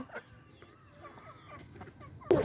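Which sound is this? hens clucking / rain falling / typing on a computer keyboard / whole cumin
hens clucking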